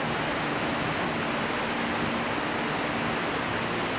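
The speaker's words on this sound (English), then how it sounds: "Victoria Falls is the world's largest waterfall by sheet flow" Victoria Falls on the Zambezi River, a massive waterfall heard as a constant, dense, broadband roar of falling water, steady and unbroken throughout.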